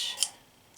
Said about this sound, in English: I'm going to reach up here and grab my Nan's pinking shears, and I'm going to just trim this down